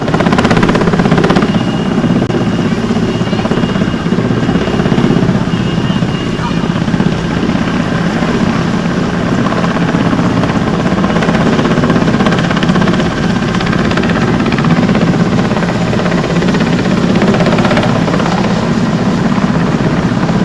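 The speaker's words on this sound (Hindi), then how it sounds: "भारतीय वायुसेना के हेलीकॉप्टर द्वारा बाढ़ प्रभावित परिवारों के बीच सूखा राशन पैकेट एयर ड्रॉप किया गया" An Indian Air Force helicopter airdropping dry ration packets to flood-affected families hums with a loud, continuous rotor and engine drone throughout, steady and close.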